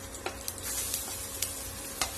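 Gentle sizzling of chopped ginger and garlic frying in hot oil, with a few sharp clinks of a spoon stirring the pan at irregular intervals.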